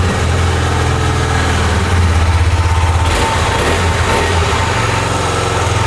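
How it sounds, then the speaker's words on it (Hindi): A KTM Duke motorcycle sits idling nearby with a loud, steady single-cylinder exhaust thrum, giving a brief throttle blip partway through. "अभी मैं जल्दी से आपको इसका एग्जॉस्ट नोट सुनाता हूँ।"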